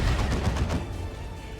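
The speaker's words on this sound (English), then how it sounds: "by the plasma cannon shots" Rapid plasma cannon shots from a 3v3 Chaos Invasion match in Warhammer 40,000: Dawn of War 2, a dense, loud barrage of booming bursts that fades slightly toward the end.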